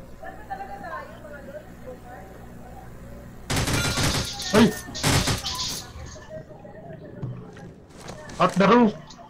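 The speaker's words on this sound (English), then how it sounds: "Gunshot." Two bursts of rapid gunfire in the video game Rules of Survival crackle loudly in the middle, with a later shorter burst, while voices talk throughout.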